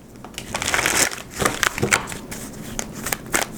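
Tarot cards are shuffled in several crisp, riffling bursts, close up, with brief pauses between them.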